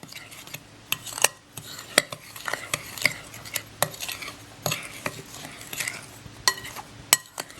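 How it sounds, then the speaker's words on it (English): Bath bomb dry ingredients, including citric acid, are stirred together in a bowl, giving soft gritty scraping broken by sharp clinks of utensil on the bowl at irregular intervals, close and moderately loud without voices. "So what you're going to want to do next is just mix all of these together. Break up any big chunks you might have."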